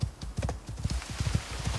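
Horse hooves in the video game Icarus, a rapid run of dull thudding clip-clops at an even walking-to-trotting rhythm, close and steady throughout.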